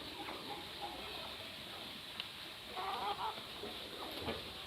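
Desi chickens cluck softly while pecking at feed in a poultry house, scattered clucks and pecking sounds over steady background noise, with a couple of louder bursts near the end.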